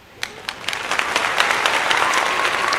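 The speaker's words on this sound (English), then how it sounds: "Applause coming all late." Applause sound effect triggered from a soundboard: a few scattered claps that quickly swell into a full, steady round of clapping.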